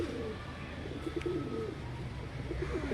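A pair of pigeons coo in a soft, steady run of low throaty calls, close by, over a faint background murmur.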